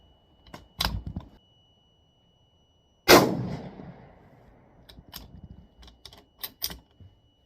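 A single sharp, loud .308 shot from a Remington 700 rifle firing Hornady 178-grain A-Max handloads, with a ringing decay, framed by clicks and clacks of bolt and gear handling before and after.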